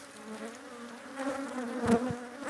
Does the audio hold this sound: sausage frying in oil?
no